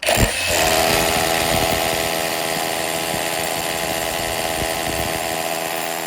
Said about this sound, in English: take our hammer drill and go through the actual brick itself to punch a hole through it